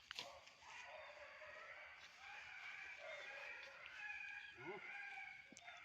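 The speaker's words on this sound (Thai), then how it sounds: "ได้ยินเสียงกุ๊กกักกุ๊กกับนะครับ" Chickens cluck and crow in a busy farmyard, with several birds calling over one another against steady background noise.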